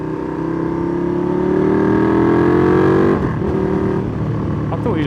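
A motorcycle engine runs continuously while riding on a trip in Germany, loud and close with a slowly rising pitch, a brief dip, then steady running again.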